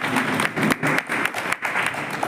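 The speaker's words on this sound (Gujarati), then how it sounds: "હું તો કોને તાળીઓથી વધાવું" An audience at a community eye camp event applauds, steady dense clapping from a crowd throughout.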